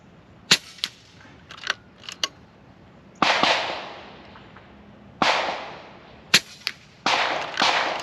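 Shots from a Kalibrgun Cricket II Tactical air rifle fired at targets at 50 and 100 yards: a series of sharp, close cracks, some single and some in quick pairs, several trailing into a short decaying echo.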